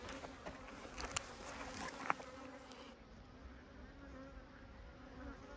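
A steady, faint buzzing drone of many honeybees at a hive entrance, continuous and close, with a few slightly louder passes of individual bees early on; only occasional bees coming and going.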